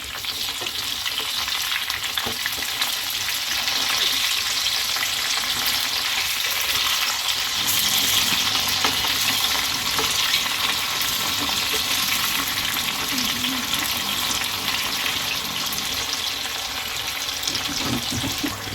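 Chicken frying in coconut oil over a medium flame, a steady dense sizzle and crackle running throughout, loud and close with no talking.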